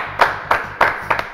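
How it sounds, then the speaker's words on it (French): Four evenly spaced claps ring out close and loud in a slow rhythm, with a low musical drone sounding beneath them. "qu'on applaudit."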